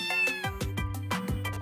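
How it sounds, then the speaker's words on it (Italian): Cartoon cats meow in a quick run of short, bright, pitched cries from a DC Super Hero Girls animated episode, close and loud with no talking over them. "I gatti! Da soli!"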